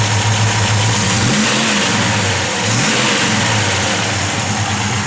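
A 1966 Ford Fairlane with a full roller V8 revs loudly and close by, its throttle swelling and easing back over a steady rumbling idle with no talk.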